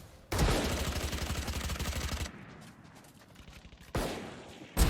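Rapid automatic gunfire in VALORANT, a loud burst lasting about two seconds, then a quieter stretch and a second short, sharp volley near the end.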